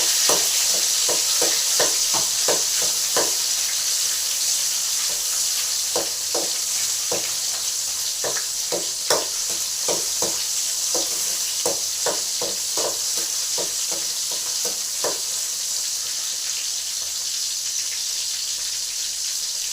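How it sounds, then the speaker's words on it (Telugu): Tomato curry with brinjal sizzles steadily in a pan while a spoon stirs it, giving bursts of quick scraping strokes over a constant hiss, close and fairly loud. "ఇప్పుడు టమాటాలు కర్రీ పెట్టుకున్నాము"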